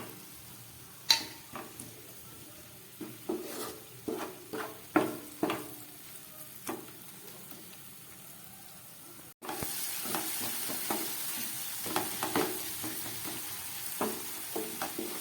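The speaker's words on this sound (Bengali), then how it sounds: "এবার দিয়ে দিচ্ছি কেটে রাখা টমেটো।" Chopped tomatoes fry in a pan with crushed black pepper for an egg tarka dal, while a spoon stirs them and scrapes against the pan in irregular taps. After a brief gap, a denser sizzle continues under the stirring.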